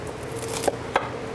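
A knife cutting through the head of a live lobster on a board, two short sharp knocks close together over a steady faint background hum.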